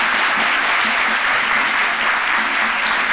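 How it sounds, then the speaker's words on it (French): A television studio audience applauds after a fashion segment, a loud, close, continuous roar of clapping that stays level from start to finish. "C'est à applaudir."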